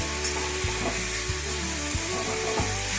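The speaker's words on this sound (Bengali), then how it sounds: "এবার দিয়ে দিচ্ছি বাকি লাউ কুচানোগুলো" Chopped bottle gourd hitting a hot frying pan sets off a steady, close sizzle in a Bengali home kitchen, broken by soft spoon-stirring scrapes about every half second to second.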